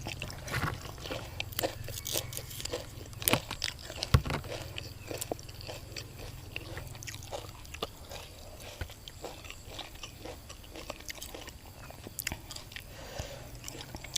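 Someone eats a spicy galangal leaf salad with fermented fish and fresh figs beside a pond, producing soft, irregular crunching and chewing bites, close and quiet, with no talking.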